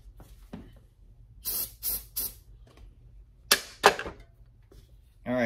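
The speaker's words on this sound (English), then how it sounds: "grab another piece and spray some, we're gonna be using that brake cleaner again" Brake cleaner is sprayed onto a cloth during string clamp and machine maintenance, heard as several short, sharp aerosol hisses in quick bursts with quiet gaps between them.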